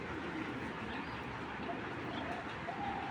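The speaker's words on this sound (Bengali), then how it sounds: "এগুলো হলো মেন কবুতর" Imported racing pigeons coo softly in a loft, a steady low murmur of several birds layered throughout, with faint rumbling background noise.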